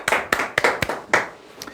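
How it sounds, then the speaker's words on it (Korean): A small audience claps in a short, sparse burst of a few scattered hand claps, nearby and fading quickly. "박수 한번 치시죠"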